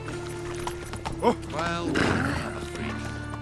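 Roach the horse galloping in The Witcher 3, with hooves clip-clopping steadily and a short snort or whinny, under game ambience while someone speaks briefly.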